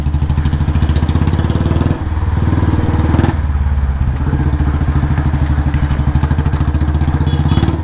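A Royal Enfield Bullet Standard 350 with a modified exhaust idles loud and close, its deep single-cylinder thump steady and rhythmic, with a brief blip of throttle partway through.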